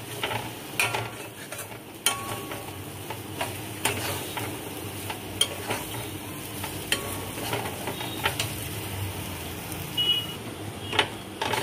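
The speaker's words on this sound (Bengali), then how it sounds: "লো ফ্লেমে আমি এটা 4-5 মিনিট মতো নেড়ে চেড়ে নিয়েছি।" Kochu mukhi (taro root) paste being stirred in a pan over a low flame, with steady soft scraping and faint sizzling plus scattered ticks of the spoon against the pan.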